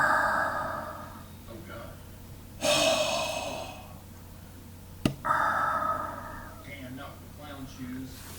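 A voice imitates Darth Vader's mechanical helmet breathing from Star Wars, producing a few slow, rasping inhale and exhale bursts spaced apart, close and fairly loud, with a brief sharp click between breaths.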